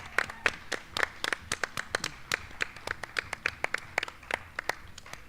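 A small festival crowd claps in sparse, scattered bursts, each clap sharp and distinct, irregular rather than rhythmic, fairly near and without talking.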